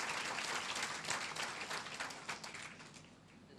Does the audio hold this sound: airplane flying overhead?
no